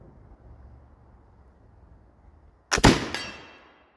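A Pedersoli Indian Trade Gun fires a single sharp black powder shot outdoors after a few seconds of quiet, a loud crack followed by a short decaying boom and echo, with no talk.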